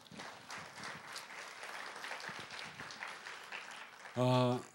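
A crowd claps in a steady, dense burst of applause, with a loud tonal sound cutting in briefly at the end.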